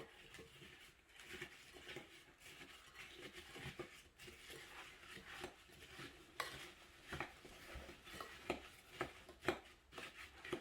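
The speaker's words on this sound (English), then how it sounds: "Now, let's mix it all together." Apple crisp ingredients stirred together in a bowl, a steady scraping and clinking of a utensil against the sides with rhythmic strokes, quiet and close with no talking.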